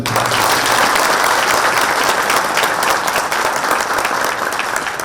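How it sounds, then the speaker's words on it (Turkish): A crowd applauds steadily and loudly for health workers at a public gathering in Nevşehir, the clapping sustained and even throughout with no break. "Öncelikle tüm sağlık çalışanları adına sizlerden bir alkış rica"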